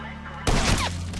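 Gunfire bursts out in Grand Theft Auto V, one sudden loud crack with a short clattering tail against a humming game background, while a voice sounds over it.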